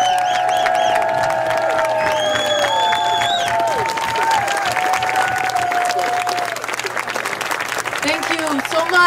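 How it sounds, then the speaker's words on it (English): An audience claps and cheers for Green Party figure Jill Stein at a talk, the applause rising under a speaker's voice and whoops, then continuing as a broad wash of clapping toward the end. "Jill Stein, give it a big round of applause"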